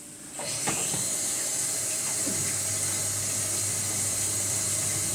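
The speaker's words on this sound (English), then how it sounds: "I'm just going to wash my hands." A kitchen sink tap runs steadily as hands are washed during bread and shakshuka cooking, a constant close hiss of water that starts after a brief quiet moment.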